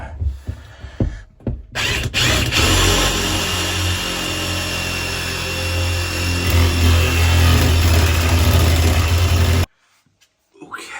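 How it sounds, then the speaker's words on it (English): A power drill with a 35mm bit grinds steadily through material for several seconds after a few short knocks, then cuts off abruptly into near silence. "35mm bit through the side, feed it through, drill another one"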